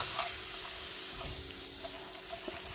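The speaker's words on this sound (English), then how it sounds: "I'm gonna go ahead and cook this up. Come on, shaved beef." Shaved beef frying in a hot pan, a steady, close sizzle that stays even throughout, with a few faint clicks and stirring taps above it.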